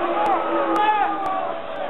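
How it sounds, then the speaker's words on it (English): A boxing crowd boos and jeers at the fight between Lamar Parks and Basante Blanco, a loud continuous roar of many voices with a few sharper shouts rising out of it. "The crowd giving the proceedings the bird"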